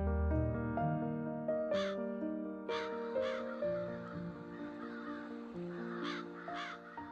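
Large-billed crows on a high plateau give several rough, drawn-out caws, spaced irregularly and heard fairly faintly against a soft tonal background without talk.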